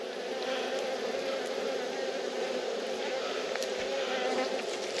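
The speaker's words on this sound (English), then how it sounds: "New bees right there." Steady, dense buzzing of many honeybees at an open hive in a beeyard, close and continuous, with no voices.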